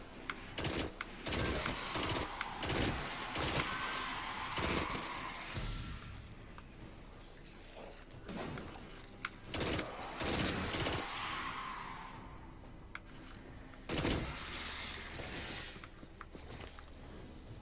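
Hacker pulse rifles fire in a multiplayer video game in repeated bursts of rapid shots with short pauses between them. The gunfire is dense and punchy, with other distant gunfire mixed in.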